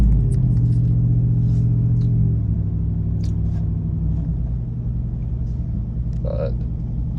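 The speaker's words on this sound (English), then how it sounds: "There's a little rev, first gear, just a little baby pull." Chevrolet Trail Boss pickup in manual mode, first gear, with a steady low engine rumble that rises in a brief rev and then eases into a gentle pull, heard from inside the cab with a person speaking over it.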